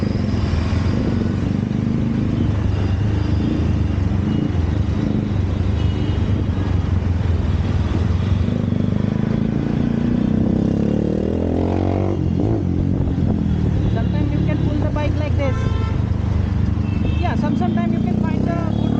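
Motorcycle riding along a rough road in India, its engine a constant loud drone mixed with wind and road rumble, and someone talks over it.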